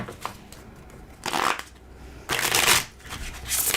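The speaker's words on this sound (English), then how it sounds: "We're going to have to shuffle the heck out of it, though." A brand new tarot card deck shuffled close up in three loud riffling bursts separated by short pauses, with no talking.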